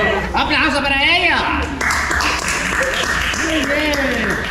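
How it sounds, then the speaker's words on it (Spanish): A crowd claps at an aid gathering for families hit by Hurricane Julia. The applause grows in the second half, while a lively voice talks loudly over the clapping throughout. "¡Aplauso para ella!"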